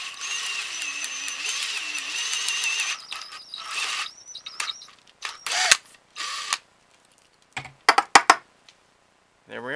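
A drill whines steadily at first as it bores through the old check valve in an Airtech 3000 pump, then falls into irregular bursts, squeals and clicks with pauses between.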